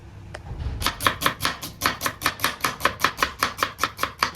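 A knife finely chops onions and tomatoes on a board for egg biryani, in a fast, even run of about twenty crisp, close chops after a brief quiet start.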